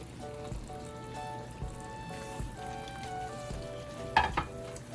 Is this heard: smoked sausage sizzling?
yes